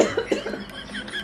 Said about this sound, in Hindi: माँ तो खांसते छो, पूरा पारा मोहल्ला भी खासत हो